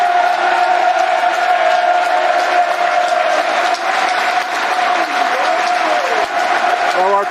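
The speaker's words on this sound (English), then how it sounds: "There's a minute's applause now for young Isla Kate" A football stadium crowd at a Millwall versus West Bromwich Albion match holds a minute's applause, sustained massed clapping with scattered shouts and whoops spread across a large open space.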